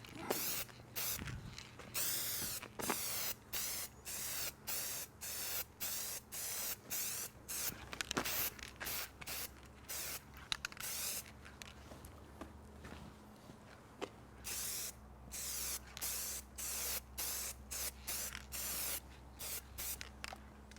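Dye sprayed onto a leather car seat in short, repeated hissing bursts, close and loud, each blast separated by brief pauses, with faint handling noise between sprays.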